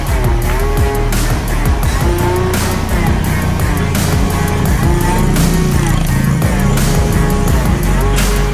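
A Honda Beat scooter on a short test ride hums loudly up close, its engine note rising and falling with throttle changes over a continuous motor drone.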